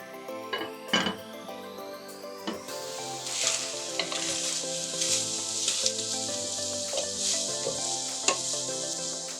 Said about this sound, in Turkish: Üzerine bir yemek kaşığı tereyağı ekleyelim ve etlerimiz suyunu salana kadar pişmeye bırakalım